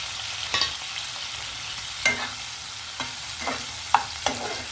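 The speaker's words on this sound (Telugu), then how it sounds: "పచ్చిమిరపకాయలు టమాటాలు వేసానండి. సిమ్లో పెట్టి మగ్గించుకోవాలండి. చింతపండు వేసేస్తున్నానండి." Green chilies, tomatoes and tamarind softening in a pan over low heat for a Telugu tomato chutney, a soft steady sizzle broken by a few scraping stirs of a spatula, with no voices.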